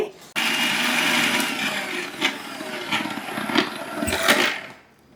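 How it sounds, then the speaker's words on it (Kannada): A kitchen mixer grinder whirs loudly as it grinds cumin and green chillies into a smooth paste, starting abruptly and running steadily, then winding down at the end. "ಸೊ ಇದನ್ನ ಮಿಕ್ಸಿ ಮಾಡಿ ನುಣ್ಣು ಕಾಡಿಸ್ಕೋಬೇಕು"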